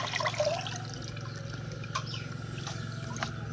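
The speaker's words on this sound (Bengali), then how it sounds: "তো সব একবারে ধুয়ে নিলাম।" Chopped taro leaves, green chilies and garlic washed in water, a soft close splashing and trickling over a low steady hum.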